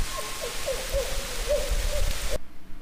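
A barred owl hoots in a series of wavering calls over a hissy background, moderately close, ending abruptly.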